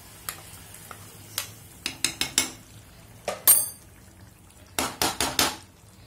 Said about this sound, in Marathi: आता हा जो आपला तयार झालेला तडका जो आहे तो मी आता भाजीमध्ये घालून घेते।